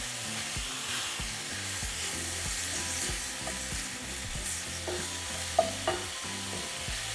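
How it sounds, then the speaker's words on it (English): Half an onion and steak frying together in a pan, a continuous close sizzle with rhythmic stirring scrapes and a couple of sharper clinks near the end. "after 2 minutes, we're going to add half of an onion. We're just going to mix it with the meat"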